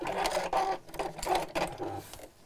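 Sewing machine stitching a seam close to the fabric edge during a half-yard sewing project, running in short quiet bursts with brief pauses between, the needle's rapid whirring stopping and starting.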